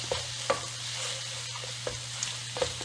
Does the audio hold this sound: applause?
no